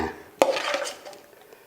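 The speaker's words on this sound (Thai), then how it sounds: "เดี๋ยวจะนำเครื่องพวกนี้ใส่ลงไป" Seasonings tipped into a bowl for a Thai spicy salad, with one sharp clink near the start and a short burst of rattling and scraping that fades into softer shuffling.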